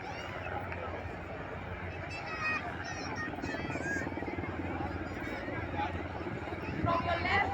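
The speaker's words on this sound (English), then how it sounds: "the next aircraft in perfect aeroplane formation is the Seahawk formation of the MS-16 Romeo helicopters" Navy MH-60R Seahawk helicopters fly past in formation over a naval display at Puri, a steady distant rotor drone heard beneath crowd chatter and a commentator's voice.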